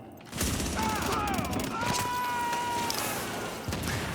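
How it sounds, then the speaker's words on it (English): A sniper rifle round cracks past in a shooter video game, a sharp report cutting through steady battlefield noise with thin whistling tones, and a second shot lands near the end. "That sniper round barely missed me."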